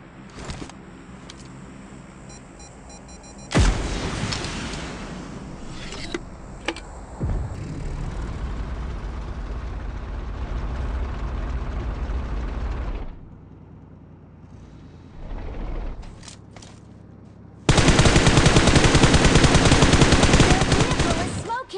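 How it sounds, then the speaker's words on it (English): Gunfire erupts in the BGMI battle-royale game during a tank fight, with loud bursts of automatic fire in several long stretches separated by quieter gaps full of vehicle and engine noise. "Firing sounds detected."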